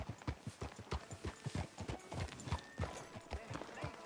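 A horse walks along in the video game Red Dead Redemption 2, its hooves clip-clopping in a steady, even rhythm, close and clear, over a faint outdoor background.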